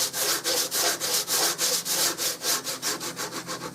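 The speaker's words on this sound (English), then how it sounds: "This 50 grit is so aggressive though, you can actually shape with it." Coarse 50 grit sandpaper shapes a wooden gun stock for a Remington 788 in fast, rhythmic back-and-forth rasping strokes. The strokes are close and steady, with no voices.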